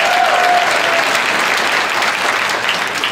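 Loud, dense applause from a concert audience fills the whole stretch, steady and continuous, with a brief voice fading out at the start.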